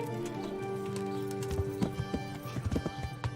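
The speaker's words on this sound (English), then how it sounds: "Dá pra montar no cavalo sem cela, hein?" Horse hooves in Kingdom Come: Deliverance, a bareback horse under a steady droning background, its hoofbeats starting soft and growing into a clear, close run of clip-clops, with a hint of neighing.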